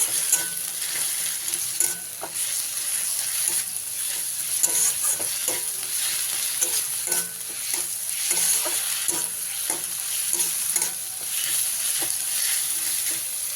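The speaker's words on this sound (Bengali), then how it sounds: "দিয়ে দিলাম আদা রসুন বাটা এক চামচ কাঁচা লঙ্কা দিয়ে ভালো করে ভেজে নেবো" Ginger-garlic paste and green chilli fry in oil with a constant bright sizzle, while a spoon stirs and scrapes the pan in frequent short knocks throughout, close up with no talk.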